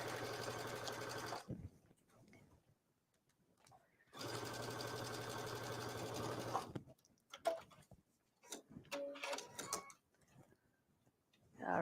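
A sewing machine stitches seams on a knit top in two sustained bursts of steady mechanical whirring, separated by quiet pauses, followed by scattered light clicks and handling noises.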